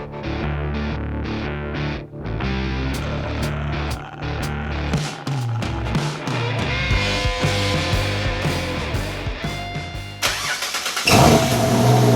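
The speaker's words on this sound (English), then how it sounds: "That's the sweet sound of no exhaust leaks." A 4x4's engine with a freshly repaired exhaust manifold cranks and starts, then idles and revs steadily, loud and close with no hiss or ticking, alone without voices.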